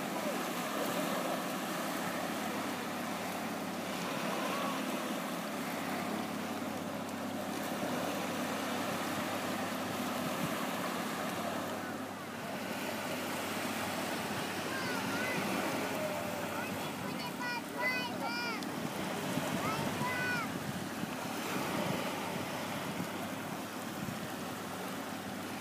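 Soft, steady surf washes continuously onto Maenam beach with light wind noise, while people chat quietly in the background.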